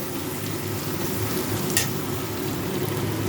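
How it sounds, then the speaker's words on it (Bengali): Crushed garlic and onion frying in a pan, a dense, even crackling sizzle close up and continuous, with one brief brighter clink partway through. "রসুন পেঁয়াজটা আমি 2 থেকে 3 মিনিট মতো ভেজে দেবো, খুব বেশি লাল করে ভাজবো না।"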